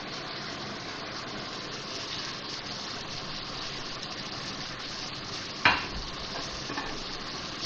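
Chow mein ingredients fry in a pan with a constant broad sizzle, and a single scraping stir or clink stands out briefly near the end.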